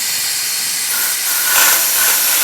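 Air blown through the carburetor of a Reliant Supervan to clear out fuel, a loud, continuous hiss that swells stronger in the second half, heard close up with no voices.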